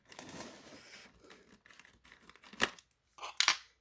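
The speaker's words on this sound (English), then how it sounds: "So you've cut here, right? So then you cut along here." Scissors snip through the cardboard flap of a Star Trek TOS Bridge playset toy package, with a rustling cut followed by two sharp, close crunching snips.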